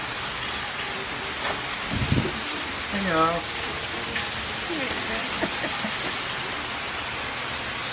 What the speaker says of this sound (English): Haven't been around rain like this in quite some time.